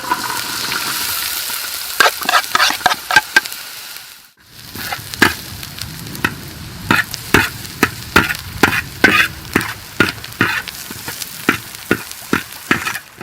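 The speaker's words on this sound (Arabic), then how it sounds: "وهسه راح اضيف البصل والثوم" Onion and garlic fry in oil in a pan for homemade pizza sauce, with a steady sizzle broken by a run of sharp, regular scraping strokes as the pan is stirred.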